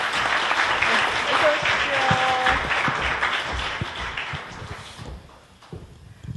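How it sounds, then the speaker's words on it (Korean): Sustained audience applause at a Korean culture-and-business forum, dense and loud for about five seconds before thinning out to scattered claps as it fades. "박수 부탁드리겠습니다."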